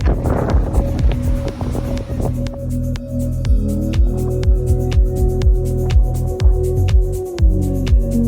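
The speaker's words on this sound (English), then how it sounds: "It does get a bit windy in the afternoon here" Wind buffeting an outdoor microphone on the coast of Crete near the Matala caves, a steady low rumble throughout, with a motor-like throb and rising tones running beneath it.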